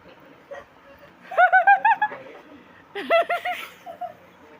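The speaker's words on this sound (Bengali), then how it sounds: "এখানে ছিল সেখানে এখন কবুতর আছে" Two bursts of pigeon cooing, close by and fairly loud, each a quick run of rolling, wavering coos separated by a short pause, with faint background room noise.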